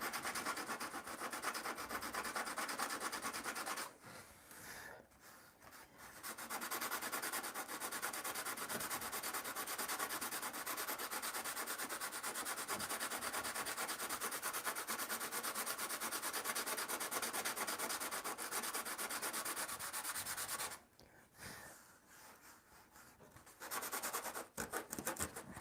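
Wood is sanded by hand with 100 grit sandpaper in long, continuous scratchy strokes, close and steady, with two brief pauses.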